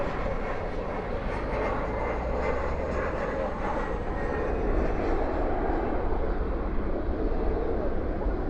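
An airplane coming in to land at DFW airport at night, a steady, loud broadband engine roar that holds and swells slightly over several seconds, heard alone without talk.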